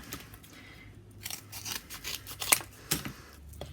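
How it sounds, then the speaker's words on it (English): Scissors cutting through cardboard at close range, a series of crunchy snips and rustles over a few seconds with a sharper snap near the end, no talking. "It's my trusty cardboard. I'm going to cut it about that wide."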